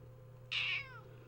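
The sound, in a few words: cat meowing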